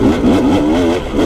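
A vehicle's engine revs up strongly after a shift into third gear, a loud, close, steady rising drone with no speech.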